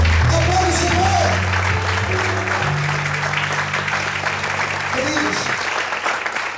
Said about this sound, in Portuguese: Aplaude o Senhor!